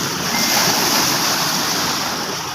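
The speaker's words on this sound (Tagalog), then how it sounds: "Grabe lakas ng alon talaga" Strong ocean surf crashes continuously up close, a dense, loud wash of breaking waves with rushing water and no pauses.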